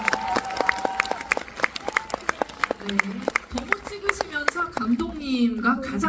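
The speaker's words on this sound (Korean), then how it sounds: "네, 박수 부탁드릴게요." Audience members at a film screening and talk event clap in scattered, uneven applause, with individual sharp claps standing out, while a voice speaks over the clapping.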